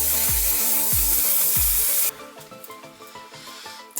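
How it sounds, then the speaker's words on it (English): Makeup setting spray misted in a few short bursts, followed by a longer steady hiss that fades, close and alone. "a holding spray for your makeup"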